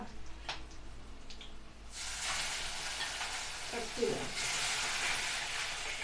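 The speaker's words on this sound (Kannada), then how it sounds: "ಸಾಂಬಾರಿಗೆ ಒಗ್ಗರಣೆ ಹಾಕ್ತಾ ಇದ್ದೀನಿ" Spices tempering in hot oil for sambar give a loud, steady sizzle that starts about two seconds in and carries on continuously, with a brief stirring clatter near the end and no talk.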